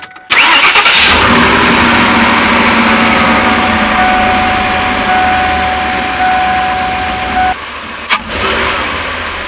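A V8 engine with its doghouse cover removed, suspected of a vacuum leak, cranks briefly and fires, then settles into a loud, close, steady idle that dips near the end and briefly picks up again.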